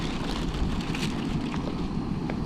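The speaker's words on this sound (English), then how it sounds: "There's a gust of wind." Wind gusts outdoors at a backpacking camp cooking spot, a rumbling, buffeting roar that swells and eases over low rustling noise, heard alone.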